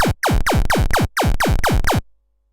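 A synthesizer driven by a faster sawtooth LFO at a 1/8 rate produces a rapid series of about nine sharp downward pitch sweeps, rhythmic pew-like zaps in two bursts, loud and alone before cutting to silence.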